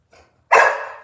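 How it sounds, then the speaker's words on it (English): A dog gives a single loud, close bark after a faint short sound, aimed at a purse on a table indoors. "The dog is barking at my purse."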